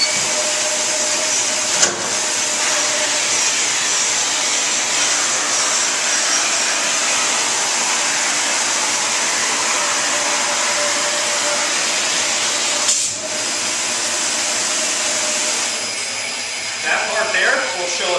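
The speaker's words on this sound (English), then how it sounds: "The first thing we're going to do is grind the ski to make sure that it is perfectly flat." A grinding machine flattens a ski base, giving a loud, continuous high-pitched whine and hiss that holds steady throughout, with brief clunks and a shift in tone near the end.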